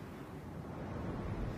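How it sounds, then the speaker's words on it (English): Strong wind gusting at the Forth Road Bridge roars as a dense, rumbling rush, buffeting the microphone steadily and swelling slightly toward the end. "Yes, Sophie, the wind over the last half hour here has been gusting to just shy of 50 miles an hour."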